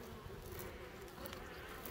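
A dense, steady buzzing of many honey bees, continuous and fairly faint, with no voices.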